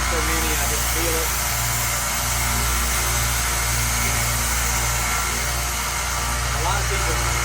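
A 1x30 belt sander hums with a steady, close, unbroken motor drone while a knife is sharpened on it.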